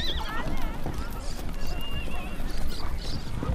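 Horses in a Mongolian nomad herding setting neigh with rising whinnies over a busy bed of hoof clatter and movement, fairly close and continuous, with voices mixed in.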